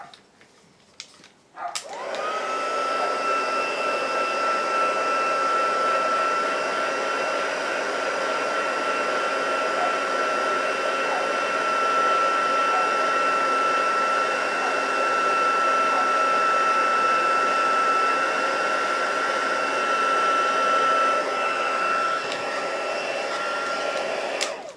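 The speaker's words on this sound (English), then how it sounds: "it all happens so much quicker once the heat tool is heated up" A crafting heat tool blows hot air in a steady, close whine with a high tonal hum, switching on abruptly after a brief quiet start and running continuously.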